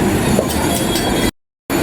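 A Mumbai local train rumbles loudly on the rails with a steady clatter and wheel screech, cut by a brief gap of silence before the noise resumes.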